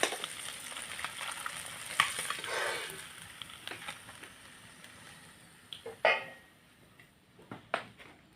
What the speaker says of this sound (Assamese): তেলত দি তাৰপিছত এই বিলাহীখিনি ভাজোঁ